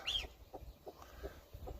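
A broody chicken clucks softly and repeatedly close by, a series of short low clucks at a steady uneven pace after a brief higher note at the start.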